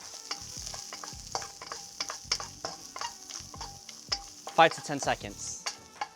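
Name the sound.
sliced garlic stir-frying in a hot pan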